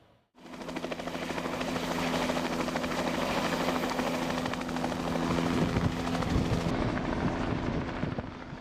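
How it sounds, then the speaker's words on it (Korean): A helicopter shuttles equipment from an icebreaker to a sea-ice camp in the Arctic Ocean. Its steady, dense rotor roar builds quickly and holds constant and loud, with a rhythmic thumping chop, and no voices are heard. "오전 내내 분주한 헬기."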